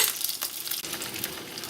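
Sausages browning in oil in a pan, giving a steady, bright sizzle and crackle with small stirring clatters, close and continuous throughout.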